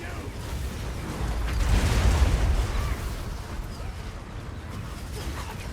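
Battle in Total War: Warhammer 2 as Skaven advance under gunfire: a low rumbling swell of distant cannon and musket fire builds, peaks, then settles into a continuous hazy roar.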